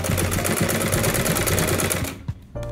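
Sewing machine stitching layers of an Ankara fabric face mask: loud, close, fast rhythmic clatter running steadily for about two seconds before stopping, then a brief knock.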